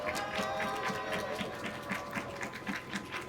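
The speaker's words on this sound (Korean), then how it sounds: "박수와 함성으로 모시겠습니다." A rally crowd greets a speaker with a steady wash of clapping and cheering, dense and continuous at moderate volume, with no distinct speech standing out.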